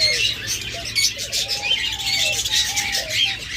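Pet lovebirds, cockatiels and budgerigars chirp and squawk continuously at close range, with overlapping high calls and short whistled notes forming a busy, steady chorus.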